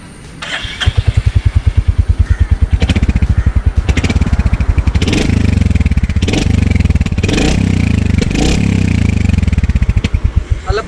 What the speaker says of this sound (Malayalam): ഇനി നമുക്ക് സൗണ്ട് ചെക്ക് ചെയ്യാം അല്ലേ, എഞ്ചിൻ സൗണ്ട് ഒന്ന് ചെക്ക് ചെയ്യാം.